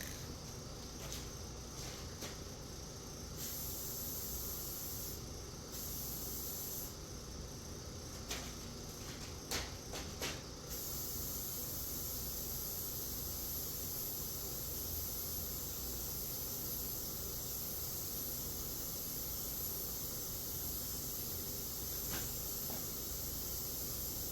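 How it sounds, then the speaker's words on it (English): Rattle-can spray paint hisses steadily onto a car bumper, one long soft broadband spray lasting the whole stretch, with a few brief pauses and clicks early on. "Whatever hole you decide you want, start spraying, and it pushes down kind of hard."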